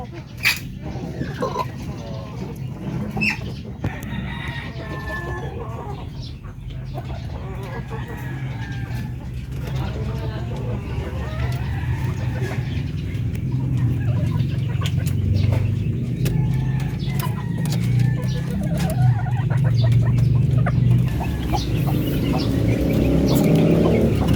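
Chickens cluck steadily on a Filipino poultry farm, their calls continuing underneath a person talking throughout.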